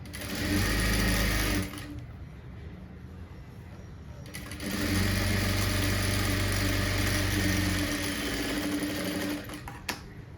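A sewing machine stitches piping onto a blouse in two loud, fast runs, a steady whirring hum broken by a short pause, then a brief clack at the end.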